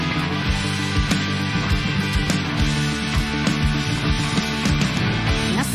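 Palm-muted electric guitar chugging in a family band's rock song, dense and loud, with tight rhythmic muted strums driving steadily under the full band mix throughout.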